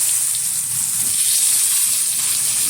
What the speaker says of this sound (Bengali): পটলগুলো সুন্দরভাবে ভেজে নেব